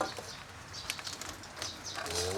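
Birds flutter and coo softly amid a busy outdoor background, with brief wingbeats and faint calls scattered through the clip.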